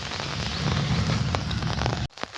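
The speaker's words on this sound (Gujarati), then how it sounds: "અત્યારે બી ઝીણો ઝીણો વરસાદ પડે છે" Light drizzle falling in a village in Devgadh Baria, a steady close hiss of fine rain with scattered drop taps, cutting off abruptly near the end.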